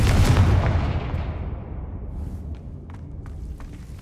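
Confringo blasting spell exploding in the Hogwarts Legacy video game, a single heavy boom at the start that rumbles and decays over a few seconds, followed by faint scattered clicks.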